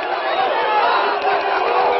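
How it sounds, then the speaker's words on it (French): Dense crowd noise from supporters and protesters gathered along a French presidential visit, a steady roar of mixed applause and whistling with shouts, loud and continuous throughout. "Applaudissements et sifflets mêlés, supporters et manifestants mélangés."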